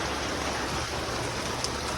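Steady, even hiss of rain falling without pause in a village, a dense wash of drops with no other sounds standing out.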